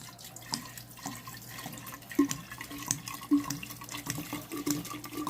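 Red wine poured from a container into a half-gallon mason jar, giving a steady close liquid trickle with a few small glugs and splashes, no voices.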